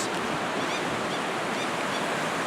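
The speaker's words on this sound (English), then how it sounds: "That wave you're hearing is the water under the bridge." Steady rushing wash of water flowing and churning beneath a damaged road bridge in Niger State, Nigeria, a broad continuous roar filling the scene with no voices.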